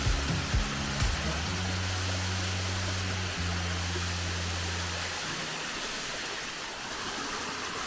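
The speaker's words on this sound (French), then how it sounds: "Voici la magnifique cascade Dark Hollow." Dark Hollow Falls in Shenandoah National Park, a steady broadband rush of falling water heard close up, with a low engine-like hum running under the first five seconds.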